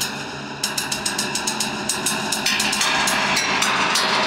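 Inside a 25-metre-tall biogas sludge digester silo, a steady reverberant industrial hum runs under a regular series of metallic knocks or clanks, fairly faint and with no voices.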